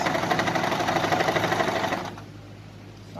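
A sewing machine runs steadily, stitching along the middle of a strip of tulle for a cloudy ruffle sleeve, a close, rapid mechanical chatter for about two seconds before it stops and only faint room hum remains.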